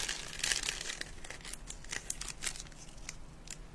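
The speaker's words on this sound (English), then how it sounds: "The serrated scissors." Very old serrated scissors cutting paper for a craft piece, a series of close, quiet crisp snips and rustles with no talking.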